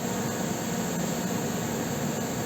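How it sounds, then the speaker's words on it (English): Constant whooshing hum of a heater running, steady and unbroken throughout, with no voices. "Sorry about the noise, the heater being on."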